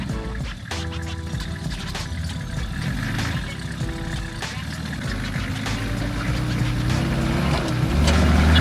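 A boat motor runs steadily at close range in an outdoor setting on a catfishing trip, a continuous low engine drone with water wash that swells slightly louder toward the end, no talk.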